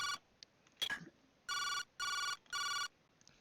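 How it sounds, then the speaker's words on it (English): A cell phone rings in the detective video game Jake Hunter Detective Story: Memories of the Past, three evenly spaced electronic ring bursts following a short clatter, clear and moderately quiet. "I was still gazing at the house when Marcy started to ring."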